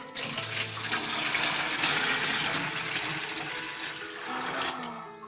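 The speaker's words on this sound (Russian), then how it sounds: "наливаем воду?" Water pours steadily and fairly loudly into a mermaid toy, a continuous splashing gush lasting several seconds and easing slightly toward the end, with no talking over it.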